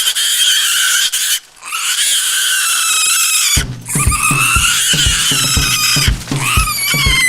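A pig squeals and grunts loudly and close by in repeated harsh, high-pitched bursts, with short pauses between the calls.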